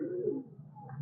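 An old pigeon coos in a low, rolling burst, close and fairly loud, fading then returning near the end with no talk over it.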